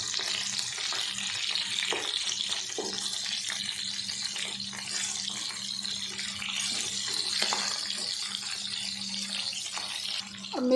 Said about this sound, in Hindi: ऑयल गर्म हो गया तो अब हम इनमें मिर्चें डाल देते हैं। हमने सारी मिर्चें डाल दी और इनको फ्राई कर लेते हैं।